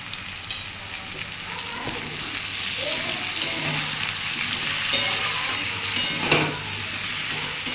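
Fish head with kata datar (drumstick) chachchori sautéing in a pan with cumin powder, chilli powder and turmeric, giving a steady close sizzle and frying crackle with soft stirring scrapes throughout.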